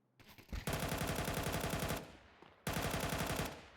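A Galil rifle fires in Counter-Strike 2, two loud, rapid automatic bursts, the first over a second long and the second following after a short pause.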